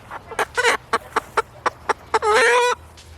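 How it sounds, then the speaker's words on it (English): A Cornish Cross meat rooster clucking close by: a run of short, evenly spaced clucks, ending in a longer, drawn-out squawk. "This one's a hen, this one's a rooster."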